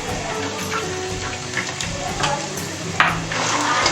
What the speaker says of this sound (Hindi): अब हम अपने इसमें प्याज डालेंगे और प्याज को हम लाल करेंगे